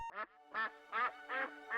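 A duck at a competitive duck-herding event quacks five times in a steady rhythm, each call loud, nasal and close, with silence between.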